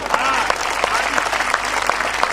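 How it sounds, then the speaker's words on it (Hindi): An audience at a Hindi comic poetry recital (kavi sammelan) claps steadily in a dense, continuous burst of applause, with a voice talking over it. "तालियां जरा भरपूर दीजिए।"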